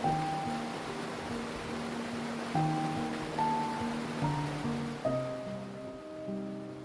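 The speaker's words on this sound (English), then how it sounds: "These falls are known for their unique stepped formations, where water flows over layers of ancient rock, producing a continuous," Binga waterfalls in Angola, water pouring over stepped layers of ancient rock, give a steady broadband rush beneath a louder layer of sustained musical tones.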